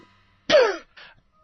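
A man with an illness coughs in a harsh, raspy burst, then gives a shorter second cough, close and alone in a quiet room.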